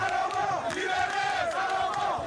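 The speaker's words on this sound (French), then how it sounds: "Et la foule a grondé." A large crowd at a political rally for the Ensemble pour la République party in the Grand Kivu region roars continuously, many voices shouting and chanting together in a dense, loud swell.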